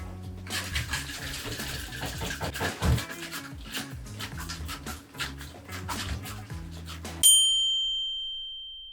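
Cold water is poured into melted chocolate to cool it, a splashing, running flow heard close up for several seconds, ending with a sharp metallic ding that rings out and fades.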